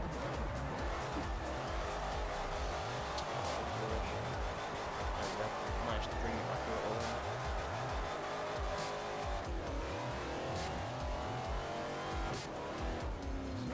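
A Plymouth Hemi Cuda drifting in the Forza 4 racing game, its engine roaring continuously at high revs with tire squeal layered over it, loud and steady throughout with no talk.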